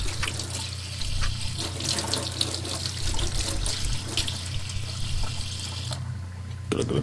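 Water pours steadily from a tap-like source in the horror video game Paranoiac, a continuous hissing splash that runs at moderate level for several seconds before thinning out near the end.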